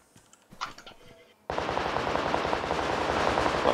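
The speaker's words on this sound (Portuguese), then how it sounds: "Você que tá atirando, Douglas?" Automatic gunfire in the video game PUBG Lite bursts in after a second and a half of faint, scattered clicks, then rattles on as a dense, loud, continuous stream to the end.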